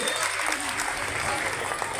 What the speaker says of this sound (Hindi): जोरदार तालियां बजा के हो।